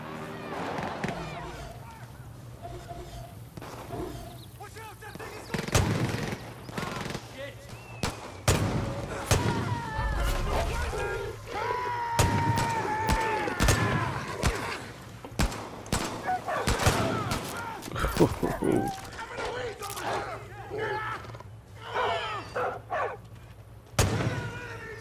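Purple gun fired in the game Far Cry New Dawn: repeated sharp gunshots and bursts of fire scattered across the stretch, mixed with footsteps and other game noise, with someone talking at times between shots.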